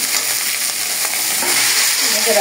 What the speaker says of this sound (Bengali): আলুটা ছেড়ে দেবো, সুন্দর করে কষিয়ে নেব